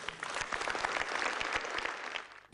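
A studio audience at a motivational talk show breaks into loud, dense applause, a close and steady burst of many hands clapping that cuts off sharply at the end.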